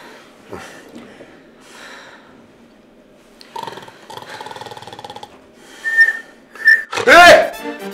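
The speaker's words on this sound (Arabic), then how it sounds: "انا بجرب الصفاره" Someone blows a whistle as a test: a couple of short, shrill toots followed by a longer loud blast near the end, with soft talk and breathing before it.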